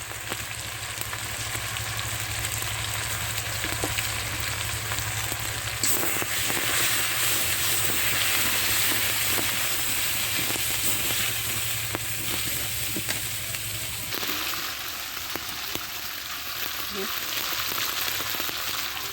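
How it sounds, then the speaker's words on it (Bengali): Oil-fried masala paste of salt, dry chili powder and turmeric sizzles steadily in a pan for a pangas fish and tomato curry, a loud continuous hiss with faint stirring ticks and no talk. "মশলাটাও কষানো হয়ে গেছে"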